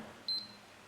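An Elgato Game Capture HD device gives a single short, clear electronic beep during a reset, set against faint background hum.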